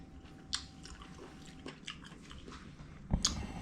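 Quiet close-up chewing of a beef and pineapple stir fry with onion, soft wet squishing bites with a couple of sharper crunchy moments.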